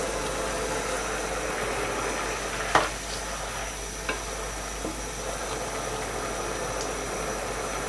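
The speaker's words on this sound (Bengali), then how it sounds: "ছোলার ডালগুলোকে জাস্ট 7 থেকে 8 মিনিট আমরা সিদ্ধ করে নিব" Chana dal simmering in a covered pot over medium heat, giving a steady bubbling hiss with a few faint clinks near the start.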